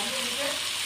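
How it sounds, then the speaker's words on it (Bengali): Ginger garlic paste frying in a pan, a continuous close hissing sizzle with a faint tonal ring, steady throughout the short stretch with no talk. "আদা রসুন বাটা দিলাম, দিয়ে এবার অনেকক্ষণ কষিয়ে নেব"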